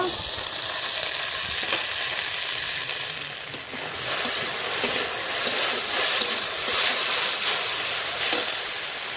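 Small hilsa fish cooking in a mustard and poppy seed sauce, a loud steady sizzle and crackle that swells slightly over about nine seconds, with faint stirring scrapes.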